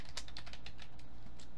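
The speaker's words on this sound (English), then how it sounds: "I can't type on this keyboard" Quick, steady typing on a computer keyboard, a dense run of crisp close-up keystrokes with no talking over them.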